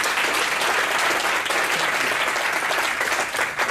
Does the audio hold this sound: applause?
yes